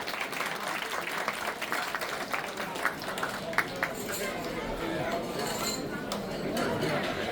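Moderate applause rises at a crowded banquet dinner in a hall, with scattered claps mixed into chatter and clinking tableware, while a voice talks over it.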